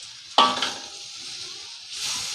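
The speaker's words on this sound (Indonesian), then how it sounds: "Kita tumis sampai ayamnya setengah matang ya" Chicken sautéing in a pan with spices for nasi kebuli, a sudden loud sizzle as it hits the hot oil, then a steady softer frying hiss that swells again near the end.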